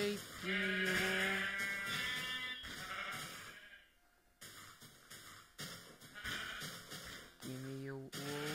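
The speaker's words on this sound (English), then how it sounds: "Sheep, give me your wool." Sheep in Minecraft bleat several times in clear, wavering calls, close and fairly loud, separated by short gaps of quiet background.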